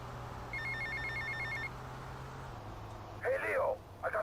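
An in-game telephone rings in Grand Theft Auto: Vice City with a repeating electronic trill in two bursts, a low steady hum underneath, and a voice breaking in near the end.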